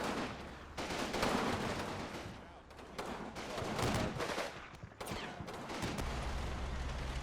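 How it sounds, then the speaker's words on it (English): Machine gun fire sweeps over a mortar team in the WWII game Combat Mission: Battle for Normandy, with dense repeated bursts and crackling volleys running continuously, fairly loud and with no talk. "My mortar team that was providing support for the eastern side gets shot at from a machine gun that they can't even see."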